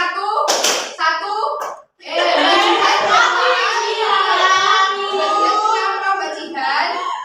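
A class of children claps in unison on a teacher's counted cue, with a sharp clap at the start, then a long run of quick, sustained clapping, overlapped by voices.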